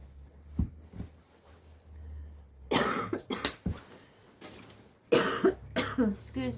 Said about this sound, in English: Otherwise, I'll just carry on coughing.